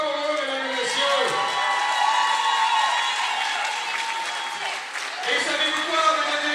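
Audience applause at a tug-of-war sporting event: dense, continuous clapping from a crowd, with cheering mixed in, rolling on without a break.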